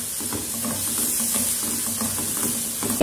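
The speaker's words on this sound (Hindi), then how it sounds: "लहसुन के पेस्ट के साथ इसे भूनते हुए 2 मिनट गुजर चुके हैं" Onion frying with ginger garlic paste in a pan, giving a steady close sizzle and hiss with faint stirring scrapes throughout, no voices.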